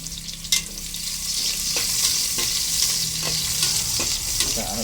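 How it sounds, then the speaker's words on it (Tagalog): Chopped garlic sizzles and fries in a hot pan for a sautéed mixed-vegetable dish, with steady crackling and occasional stirring clicks from a utensil, close and alone. "Sunod na agad natin itong bawang."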